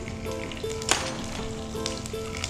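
Mustard seeds and green chilies crackle and sizzle in hot oil with cumin for a chicken curry tempering: a steady, dense frying hiss, close and fairly loud, with one sharp pop near the start.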